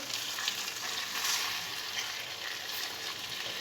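Potatoes fry in a small amount of oil in a pan for a Spanish tortilla, a steady, close hiss of sizzling with bright crackle that keeps going evenly throughout.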